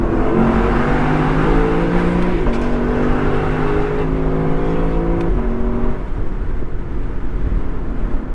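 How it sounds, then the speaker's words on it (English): A 2024 Lexus LC 500 Convertible's exhaust roars as it accelerates through rising revs, a loud, close engine note that climbs, shifts, and settles into steady cruising. "hear that glorious exhaust note"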